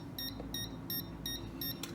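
A sonar-based distance indicator built in a mechatronics lab emits a string of short electronic beeps, about six evenly spaced pulses in two seconds, bright and tonal over a low background hum.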